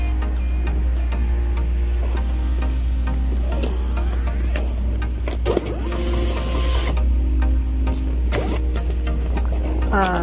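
A Zjiang Bluetooth thermal printer printing a Shopee waybill, producing a close steady mechanical whir broken by rapid clicking and ticking feed sounds and a few sharper clunks over about ten seconds.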